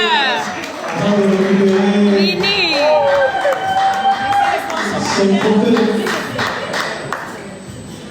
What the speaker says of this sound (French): Encore des applaudissements pour cet artiste